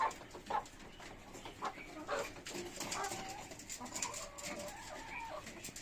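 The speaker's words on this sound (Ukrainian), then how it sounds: "Зараз я вам покажу курочок. Ось наші курочки." Hens in a backyard coop cluck and murmur softly at close range, scattered short calls over a low background, with faint other sounds mixed in.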